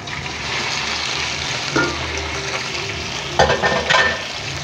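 Chicken pieces frying with garlic in a hot pan for a chicken spaghetti dish give a steady, close sizzle, with a couple of louder bursts of crackling as the food is stirred or moved.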